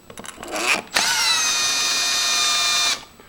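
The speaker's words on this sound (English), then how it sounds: "we're ready to go ahead and install these 2 screws at the top and the bottom" A power drill drives a screw into a Marks Grade 2 passage lever door handle, starting with a few short bursts and then running in one steady, close whine for about two seconds before stopping.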